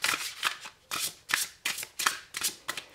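Oracle cards drawn and shuffled from a deck with a pleasant matte texture, a close run of about seven quick papery riffles in a steady rhythm.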